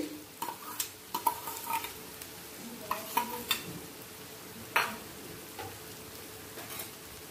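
Chopped ginger fries with onions in a pan over a low flame while a spatula stirs it in irregular scraping strokes, each one popping up over a low, steady sizzle, close by with no talking.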